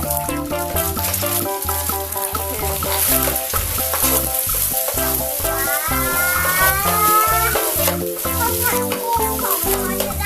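Egg stir-fried in a wok for shrimp fried rice sizzles loudly and continuously under rhythmic spatula scraping and clanking, with music playing throughout.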